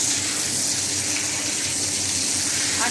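Steady rush of water running from a tap while a surface is washed in Kuwait, continuous and fairly loud throughout with no pauses.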